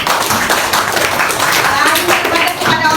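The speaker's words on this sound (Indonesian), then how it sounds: "Tepuk tangan dulu untuk dia." A class of schoolchildren claps hands together in a loud, close burst of quick irregular claps lasting a few seconds, with voices mixed in.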